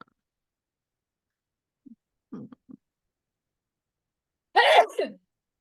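Near-silence with a few faint murmurs, then a single sharp sneeze near the end.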